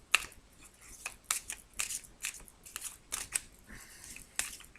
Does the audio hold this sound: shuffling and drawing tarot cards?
yes